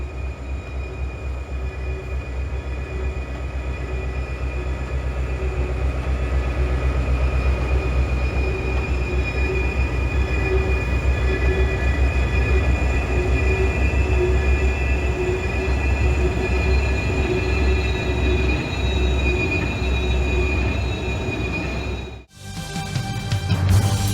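A train rolls through the Old Fort Loops, its wheels squealing in a continuous high metallic whine over a steady low rumble for over twenty seconds, ending with a sudden clunk.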